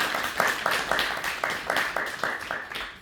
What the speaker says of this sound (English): So can I just get a round of applause for the wonderful Pam?